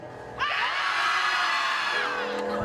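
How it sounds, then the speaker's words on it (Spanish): An audience at a live stage show shouts together on cue, one loud, sustained collective yell of about two seconds that starts abruptly and then fades. "Pegad un grito"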